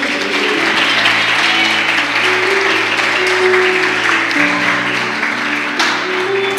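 A church congregation applauds steadily at a worship service, with dense, loud clapping throughout and sustained musical tones underneath.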